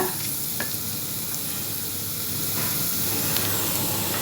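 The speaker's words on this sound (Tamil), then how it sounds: "பச்சை மிளகாய் வதக்கலாங்க" Green chillies sauté in a pan with a steady, dense sizzle and hiss, close and even throughout, with no voices.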